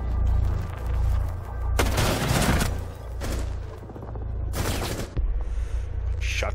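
Shotgun blasts in the tactical shooter Rainbow Six Siege, two heavy broadband bursts about three seconds apart, loud and close over a low rumbling game ambience, with a sharper crack near the end.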